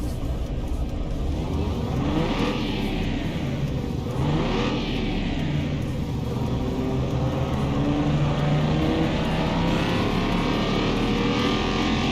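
A car engine in Car Mechanic Simulator 2021 runs on the dyno, a loud continuous roar with rising and falling revs that sweep up through the gears, close and unbroken for the whole stretch.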